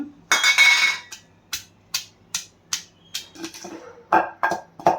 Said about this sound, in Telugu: అది సరిపోదని మళ్ళీ నూరుకుంటున్నాను వెల్లుల్లిపాయలు కూడా వేస్తున్నాను